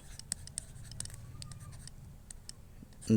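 A pen scratches across the paper of a school exercise book while math is worked out, giving short close strokes and taps in quick uneven bursts, fairly quiet, with a louder bump at the end.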